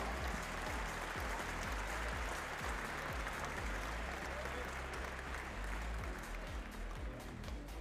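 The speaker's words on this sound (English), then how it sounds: "Give him a big round of applause." Crowd applause at an archery championship shootdown, a continuous wash of clapping heard faintly and from a distance, with a low rhythmic hum running underneath.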